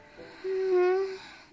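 A feverish, sick teacher character in the Corpse Party: Book of Shadows video game draws one strained, whistling wheeze of breath, brief and moderately quiet.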